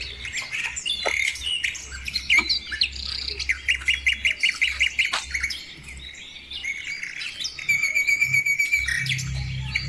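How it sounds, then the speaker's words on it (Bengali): Many birds call and chirp in a deer park at Daringbadi, with repeated squawks and bright twittering trills, some nearby and others farther off, continuing throughout with no speech. "আমি একটু শান্তভাবে থাকলে পাখির ডাকটা খুব ভালোভাবেই শোনা যাবে।"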